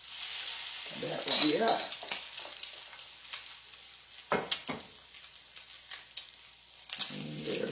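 Salmon patties frying in a pan, a steady broadband sizzle running throughout with brief clatters and stirring sounds, a few spoken words briefly over it.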